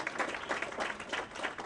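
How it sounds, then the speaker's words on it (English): Brief applause from an audience at an awards event, a moderate patter of clapping that pulses unevenly and sounds somewhat distant. "That deserves a round of applause."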